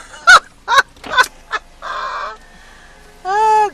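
A man imitates a duck's quack with his voice during an Appleton Estate rum tour in Jamaica: a few short loud vocal bursts, then two longer nasal, honking quacks, each held about half a second.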